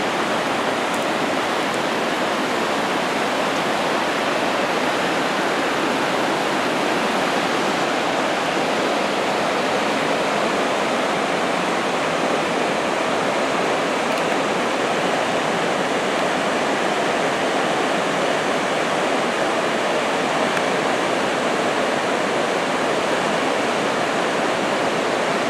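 Steady broadband rush of the Yuba River flowing over rocks, a continuous loud wash of water with no breaks, heard alone without voices.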